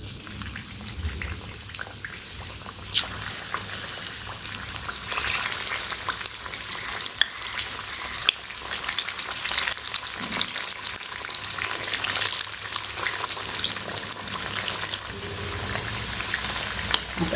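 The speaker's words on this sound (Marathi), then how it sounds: "वडी तळायला घेऊ." Colocasia leaf rolls, alu vadi, frying in hot oil, a steady close sizzle and crackle that grows busier partway through and carries on alone without talk.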